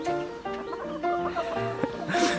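Brakel chickens in a coop, with a rooster and hens clucking in a steady, close chatter of short harmonic calls; a person murmurs briefly.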